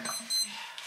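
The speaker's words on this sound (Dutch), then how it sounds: "dan gaat mijn horloge te piepen." A wristwatch alarm gives a brief electronic beep, thin high tones sounding faintly against a quiet indoor background.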